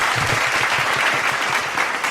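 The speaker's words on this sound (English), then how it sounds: "Hit the applause, man." A canned applause sound effect triggered on cue during a podcast, a short, loud, uniform burst of clapping with no talk over it.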